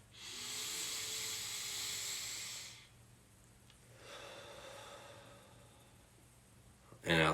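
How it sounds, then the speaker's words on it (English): A deep breath drawn in through the nose during a guided relaxation, a long airy inhale lasting a few seconds, followed by a softer exhale and a sharp noise at the end. "So just breathe in through your nose."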